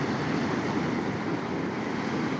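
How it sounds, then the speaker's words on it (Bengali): Steady surf on Shankarpur beach washes in as a broad, even roar, with wind noise blending into the continuous wash of waves. "দেখো খালি ঢেউটা দেখো পর পর পর পর back to back back to back ঢেউ"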